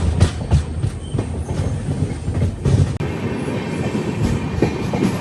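Passenger train on the Pamban Bridge sea crossing rolling along the rails, a loud, close interior rumble with rhythmic clickety-clack wheel beats over the track joints and no talking.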